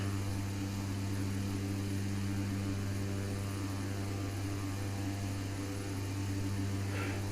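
Embraer 120 turboprop flight deck in a Prepar3d simulation flying from Unalaska to Anchorage, a constant loud low propeller drone with a steady whine layered over it and no talk.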